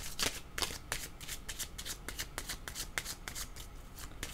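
A deck of tarot cards is shuffled by hand with rapid, crisp flicking riffles in a quick steady rhythm, close and clear, with no talking.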